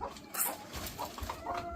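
A breeding hen of the Ilgama gamefowl line clucks on a game farm, giving a few short, fairly close clucks over a busy farmyard background.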